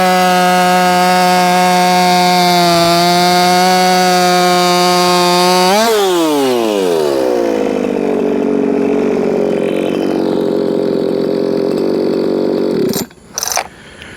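A Shindaiwa 492 chainsaw screams at high revs, then bogs down and drops pitch as it bites into wood for a timed cut, running loud and close before two brief bursts near the end.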